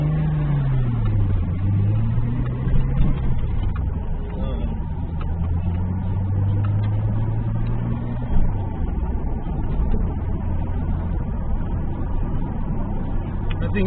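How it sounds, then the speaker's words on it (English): An older Datsun Z car sits idling on the street with a steady, smooth engine drone and low rumble, the pitch wavering gently, close and continuous throughout. "It holds its idle smooth."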